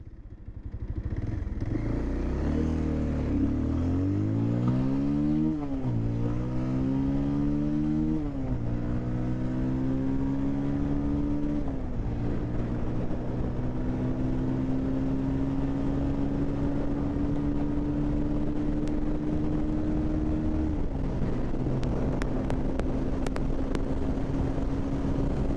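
A Bajaj Pulsar 220F BS6 motorcycle on E20 fuel runs flat out in a top-speed run, its engine note climbing through several gear changes then holding a loud, steady drone with wind roar throughout.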